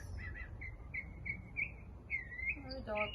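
Outdoors by the ocean, small birds give a string of faint, high, thin chirps in short bursts, ending in a slightly louder cluster of calls over a quiet low rumble of background ambience.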